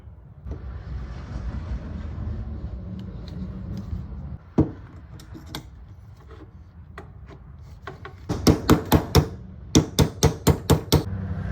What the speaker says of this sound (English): You saw I was just able to use the hammer on there.